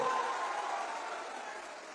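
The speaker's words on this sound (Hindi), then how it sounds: "जोर से ताली बजाओ जनक सिंह जी के लिए" Crowd at a BJP political rally in Bihar applauding, a steady, fairly distant wash of clapping that fades slightly over two seconds.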